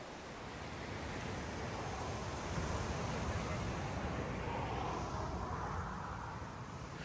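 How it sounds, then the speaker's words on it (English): Ocean surf rolls steadily along the California coast near Highway 1, a broad continuous wash with a slight swell midway and wind noise mixed in. "Not to mention our endless fascination with the waves and the seabirds in flight."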